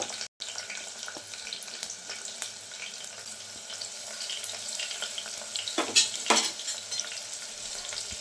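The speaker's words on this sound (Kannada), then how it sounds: "ಈಗ ಕಟ್ ಮಾಡ್ಕೊಂಡಿದ್ದು ಈರುಳ್ಳಿ ಕೂಡ ಹಾಕೋತಾ ಇದ್ದೀನಿ" Chilies, cinnamon, cloves and chopped onion fry in a pan for paneer biryani, a soft steady sizzle with a couple of louder stirring bursts near the end, close and without speech.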